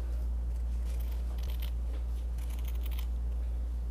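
Scissors snipping through felt to cut out a circle, a few soft crisp cuts close by over a loud steady low hum, with no talking.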